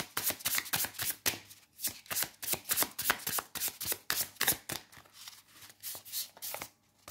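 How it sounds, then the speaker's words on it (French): Oracle cards are shuffled by hand at close range, a rapid run of crisp riffling and slapping bursts in an uneven rhythm, fairly quiet, with no voices. "je vais vous tirer une carte d'oracle"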